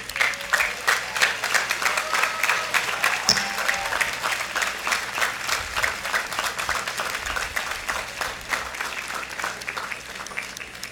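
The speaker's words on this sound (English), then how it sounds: "Let us recognize and applaud you" Applause for faculty and staff at a business school commencement ceremony, a large audience clapping steadily and loudly for about ten seconds, with a few louder claps standing out.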